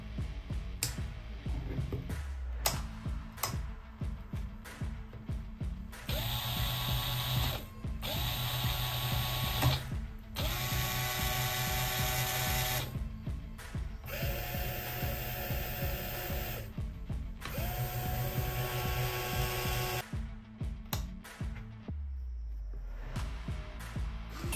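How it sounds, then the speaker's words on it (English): Four electric motors run from an RC receiver through two motor controllers, whirring in repeated bursts that start and stop, each spin-up rising to a steady whine with a high tone, separated by brief clicky pauses. "I created this 4-motor system using 2 motor controllers."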